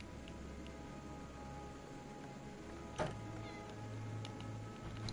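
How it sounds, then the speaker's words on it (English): A brief cat meow sounds once amid the low, steady ambient hum of the video game Path of Exile, standing out only for a moment. "Is that a cat I just heard?"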